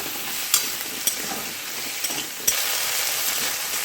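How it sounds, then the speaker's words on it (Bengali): Okra sizzles lightly in hot oil in a pan, a steady bright frying hiss with a few soft stirring clicks, close and alone. "এবার এই তেলে আমি ভেন্ডিগুলো একটু হালকা করে ভেজে নেব।"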